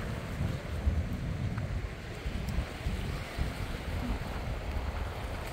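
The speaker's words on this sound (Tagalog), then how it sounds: "So, yan, medyo windy ngayon." Steady wind blows across a beach at Devonshire Bay in Bermuda, a continuous low rumbling buffet against the microphone with a faint wash of surf underneath, no voices.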